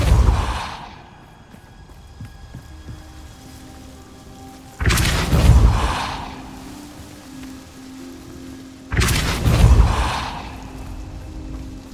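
Depulso spell blasts in the video game Hogwarts Legacy, two loud sudden whooshing bursts that rumble and fade over about two seconds each, set over a quiet rainy ambience with an opening blast tail at the start.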